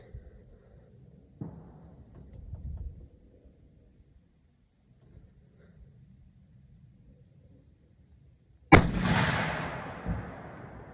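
A muzzleloader rifle fires once outdoors on a farm: a single sharp, loud blast with a ringing decay, following quiet low rumbling and faint handling noise.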